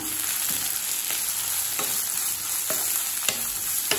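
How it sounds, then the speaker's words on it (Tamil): Onion, tomato, grated carrot and capsicum sauté in a pan for bread upma, giving a steady close sizzle with several scraping stirs at irregular intervals, no voices. "கேரட்டும் கேப்சிகம் சேர்த்துட்டு நல்லா வதக்கி வச்சுக்கோங்க"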